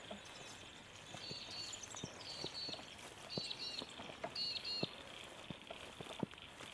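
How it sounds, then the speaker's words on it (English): Frogs call near a dam in the bush, a faint chorus of repeated high chirping pulses over a soft outdoor background with scattered footsteps and light ticking sounds. "Listen to those frogs as we walk towards the dam."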